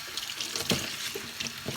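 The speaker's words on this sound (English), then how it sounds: "we're gonna wash it really good before we pickled it" Cold tap water runs steadily into a sink while pickled cabbage and green onions are rinsed, a close, continuous splashing with small irregular bursts as the greens are moved under the stream.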